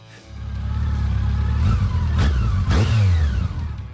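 A Yamaha FJR 1300 ES touring motorcycle engine idles with a low rumble, then revs up in rising and falling bursts, loud and close with no voices.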